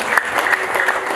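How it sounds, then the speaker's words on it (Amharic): A church congregation breaks into a short burst of steady clapping during a sermon, close and lively, with no talk over it. "እስቲ አጨብጭቡ ለራሳችሁ።"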